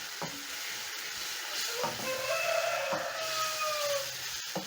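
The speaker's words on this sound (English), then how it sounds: "After 30 seconds, I'm going to be adding my tomatoes. Stir in." Tomatoes are stirred into a sizzling fish stew in a pan, a steady frying hiss with a few clinks and scrapes and faint whining tones, close by and without talk.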